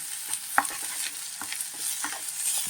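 Onion, green chilli and garlic paste fry in a pan for a Godavari pulasa fish curry, a constant bright sizzle with soft spoon scrapes and stirring taps, near and steady, no voices.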